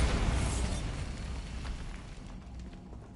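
A Bombarda blast spell goes off in Hogwarts Legacy, a loud booming explosion that hits at once and then rumbles and fades away over about three seconds, alone without talk.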